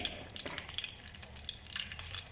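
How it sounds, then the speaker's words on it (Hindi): Curry leaves and cumin seeds fry in hot oil in a pan, giving a soft, steady sizzle with crackling pops scattered throughout, quiet and close. "इन दोनों को थोड़ा सा फ्राई करेंगे।"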